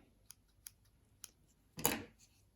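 Small scissors make several quiet snips at loose wool fibres on a needle-felted owl: three light clicks, then one longer, louder cut near the end, close up and otherwise quiet.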